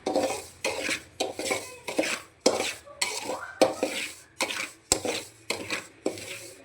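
Semolina roasts in a dry pan for upma as a spatula stirs it in a steady rhythm, producing repeated scraping strokes and metallic clinks against the pan, with a soft, faint sizzle underneath.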